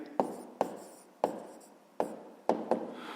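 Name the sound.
writing out a math answer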